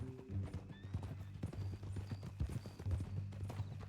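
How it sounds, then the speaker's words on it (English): Horse hooves clip-clop in a steady rhythm with a whinny in Red Dead Redemption 2, close and fairly quiet under faint game ambience, no talking. "That a new horse?"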